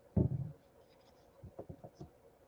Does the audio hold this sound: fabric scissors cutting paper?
yes